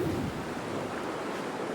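Waves wash onto a small beach at nightfall in the video game Dear Esther, a steady, broad surf roar mixed with wind that runs unbroken throughout at moderate level.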